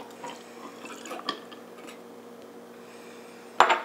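Bacardi rum poured into a cocktail shaker, a faint liquid trickle and light clinks of metal and glass, close and quiet, ending in a sharper clatter.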